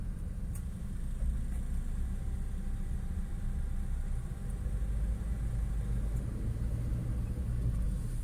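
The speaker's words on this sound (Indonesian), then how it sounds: "bundaran tanpa traffic light, lumayan macet tuh di depan" Traffic jam at a roundabout without traffic lights, a low, steady rumble of idling and creeping engines heard from inside a vehicle, continuous with no talk.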